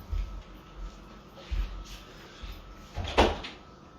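A house door is opened to let a cat in, with low thumps and handling noises followed by a sharper creak or scrape as it swings. Close and moderately quiet, with no talk over it.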